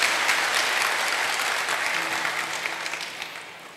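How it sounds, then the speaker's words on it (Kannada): Church congregation giving loud applause for a young singer, thick sustained clapping from many hands that gradually thins out, with a voice briefly speaking over it. "ನಿರಾಲಿಗೆ ಒಂದು ಜೋರಾಗಿ ಚಪ್ಪಾಳೆ ತಟ್ಟಿ."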